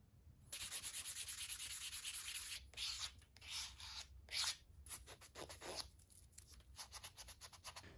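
Close, dry scratchy rubbing of small folded sandpaper on the inside of a hand-carved wooden spoon in quick strokes, with short bursts and pauses between them.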